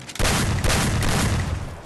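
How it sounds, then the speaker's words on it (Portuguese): A dense burst of gunfire in the mobile battle game Free Fire, a loud, continuous volley of rapid shots that fills nearly two seconds with no talking. "Ai, tô levando tiro da onde?"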